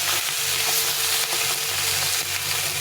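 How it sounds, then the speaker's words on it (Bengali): Pieces of rohu fish fry in hot oil in a kadai wok, giving a loud, continuous close-up sizzle with occasional crackles and spatters throughout, with no voices. "এভাবে মাছগুলো দুপাশে ভেজে নিই"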